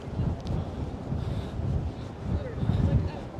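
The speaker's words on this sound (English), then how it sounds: "it is really windy right here" Strong wind buffets the microphone in a steady low rumble, rising toward the end, with faint voices in the background, on a Manhattan street in winter.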